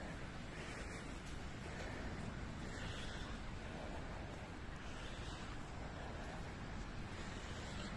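Sea surf washing onto the empty beach at entrance 31 in Sopot, a steady broadband rush of waves with wind buffeting the microphone, continuous and fairly loud with no voices.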